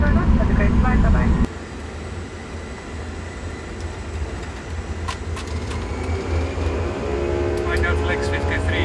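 Airbus A340 engines rumble low and steady in a cockpit on the runway before takeoff in Antarctica, the roar shifting and then swelling as thrust builds, with cockpit voices talking over it.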